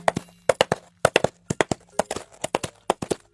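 Coconut shells knocked together as film foley to imitate galloping horse hooves, a steady three-beat clip-clop rhythm repeating crisply and close for several seconds.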